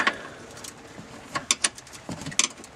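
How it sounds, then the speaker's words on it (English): A ratchet ring spanner undoing 13mm bolts on BMW Mini rear suspension, giving a few short metallic clicks and ratcheting ticks, close by, in scattered bursts over a quiet background. "take off both the 13mm bolts. If you've got a ratchet ring spanner, it's probably a bit easier."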